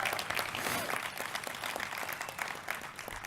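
An audience at a recovery-house world convention claps for a speaker just introduced, a soft, steady spread of applause heard from a distance.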